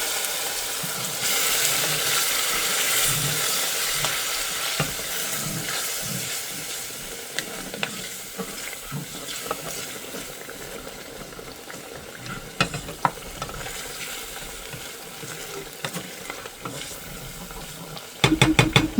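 Fried spice paste for chicken bhuna sizzles loudly in a pan just after a splash of water is added, a dense steady hiss that slowly settles, with faint scraping and a few sharp clatters near the end.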